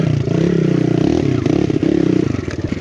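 A BBR-modified Kawasaki KLX 170 dirt bike churns along a rough enduro trail, its engine droning loud and steady up close with rising and falling revs, mixed with clattering and scraping from the rugged ground.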